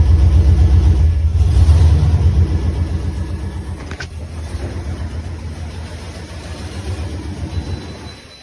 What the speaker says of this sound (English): So when you start it up, it'll run, start to choke and stall out.